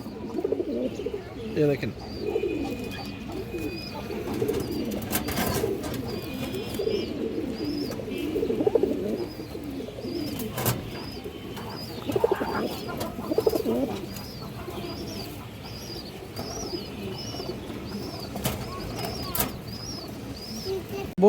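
Several pigeons coo in a loft, a continuous murmur of overlapping rolling coos with repeated high chirps and occasional clatter, while someone speaks over them.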